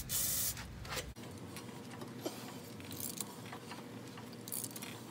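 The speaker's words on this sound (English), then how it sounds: "Gonna spray it with a little WD-40." A hissing spray of WD-40 bursts from a can near the start, followed by quieter scraping and rubbing sounds close by, on a Honda Element CV axle.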